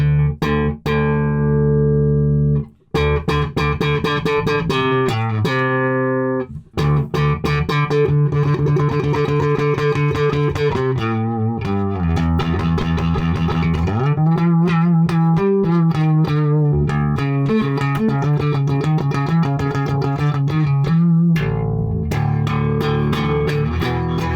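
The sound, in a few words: bass amp bottoming out at high gain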